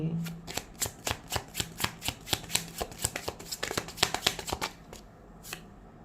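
Tarot cards are shuffled and drawn by hand, a rapid run of crisp riffling flicks close by that slows to a few last taps, with a faint voice at the start.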